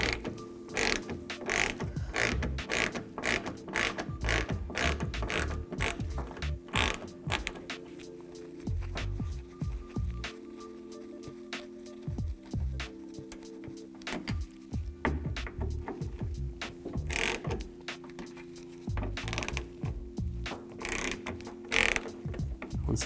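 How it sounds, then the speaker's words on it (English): A ratchet with a T30 Torx bit backs out Torx screws, giving rapid close clicking pawl ticks in steady runs with brief pauses between screws. "I'm going to use a T30 Torx bit and a ratchet."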